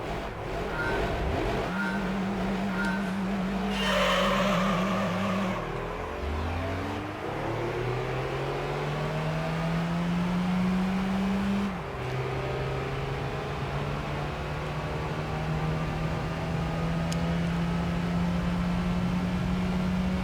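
Race cars in the Gran Turismo 3 video game, with a continuous engine drone that rises in pitch through gear changes, revving and shifting steadily for about twenty seconds.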